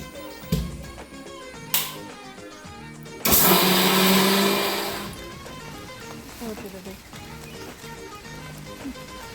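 A mixer grinder grinds soaked masala for a festive Kannada dish in a kitchen, a loud burst of motor whirr lasting a couple of seconds before fading, with brief knocks earlier and talk around it.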